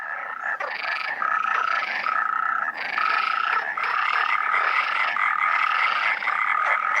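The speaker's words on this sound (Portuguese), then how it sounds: "A rã arborícola europeia tem apenas um saco sonoro para se fazer ouvir." A chorus of European tree frogs gives spring mating calls in Spain, rapid, rasping pulsed croaks, several overlapping and continuous, loud and close with no other sounds.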